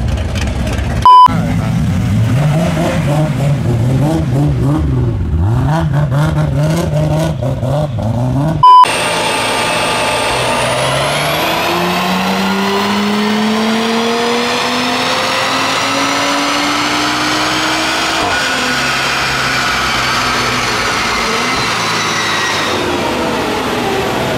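Mopar muscle cars pass at a street car meet, engines revving hard. A loud, rising roar builds as one accelerates past, followed by a sustained, rumbling drone.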